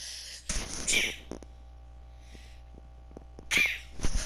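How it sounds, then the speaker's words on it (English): A single sharp sneeze bursts out near the start, followed by a second short sneeze-like burst near the end, with quiet room tone between inside a suburban house under renovation. "a little sneeze coming on"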